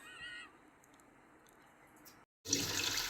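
Water splashes loudly over raw sacrificial meat being washed at home, a short burst that breaks in after a quiet pause.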